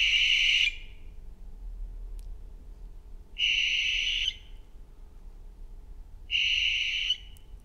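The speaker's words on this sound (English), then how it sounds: "I'm going to play you a barn owl sound." Three long, breathy barn owl screeches sound alone at even intervals, each lasting under a second, clear and close against a quiet background.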